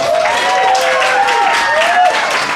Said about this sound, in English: Go ahead and give us a round of applause.